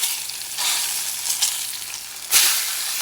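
A London broil steak sears fat side down in a hot pan, giving a steady close sizzle with a sharper surge of crackling near the end.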